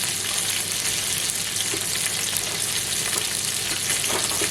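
Chicken pieces sizzle and fry steadily in a hot pan for a Basque-style chicken dish, a continuous crackling hiss with small pops, fairly close and even throughout, with no talking.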